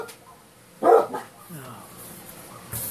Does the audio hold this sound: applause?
no